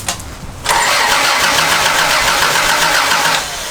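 A 1989 Toyota FJ62 Land Cruiser engine cranks for about three seconds without catching, a loud, even whirring starter drone close by, preceded by a moment of quiet.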